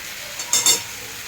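Ginger garlic paste drops into a hot frying pan, giving a brief burst of close sizzling against a quiet, faint background hiss.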